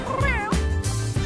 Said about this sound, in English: Mama's got a brand new cat.